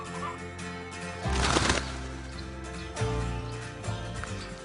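Two cockerels fighting in a barnyard, with bursts of loud flapping wings and scuffling at about 1.3 and 3 seconds over a steady background of chicken and fowl calls.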